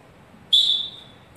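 A single whistle blown once, a bright sustained shrill tone lasting under half a second and fading out, loud and clear against a quiet background with no talking.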